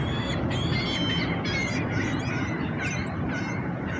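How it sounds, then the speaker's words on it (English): A large flock of birds calls outdoors: dense, overlapping honking and quacking cries at moderate distance over a steady wash of background noise, with no talking. "all the birds."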